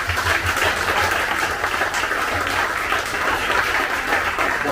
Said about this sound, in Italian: lo vogliamo ricordare con un applauso perché lo merita tantissimo